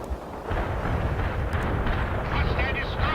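Artillery barrages in the World in Conflict video game rumble as a sustained, loud, dense roar of overlapping booms and blasts, with no clear gaps between impacts.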